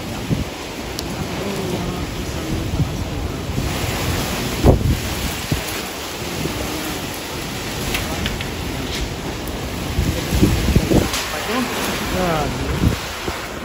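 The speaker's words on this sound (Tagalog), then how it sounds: "Kusog sa hangin." Strong typhoon wind buffets the microphone with a steady roaring rush and gusty thumps, while faint voices murmur underneath.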